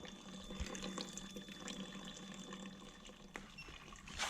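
Fuel dribbling from a line during a flow test on a Lexus SC400, a faint steady trickle of liquid with a few small splashes, close by and without talk.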